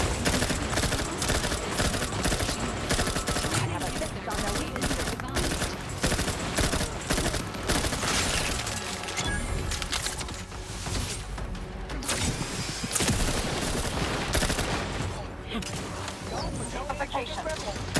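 Sustained gunfire in The Outer Worlds 2 during a firefight, dense rapid bursts with crashes and impacts running continuously and loud throughout, with game voices speaking over the combat.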